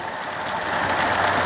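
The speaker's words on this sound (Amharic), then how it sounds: "እስኪ ይምጣምቱን በደንብ አጨብጭቡ።" Church worshippers clap at a preacher's urging, a continuous wash of applause that grows a little louder as it goes, with no speech on top.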